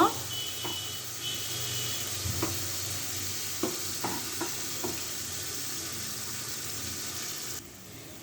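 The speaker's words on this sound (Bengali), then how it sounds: "এখন আমি হালকা করে একটু ভেজে নেব।" Cumin and coriander powder frying lightly in a pan, giving a steady close hiss. A handful of sharp spoon-against-pan clicks mark the stirring, and the sound cuts off abruptly near the end.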